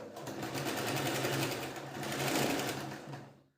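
A sewing machine runs a continuous stitch along a folded quarter-inch blouse hem on a princess-cut blouse, a close, steady mechanical whir with a rhythmic needle pulse, slowing briefly midway before stopping at the end.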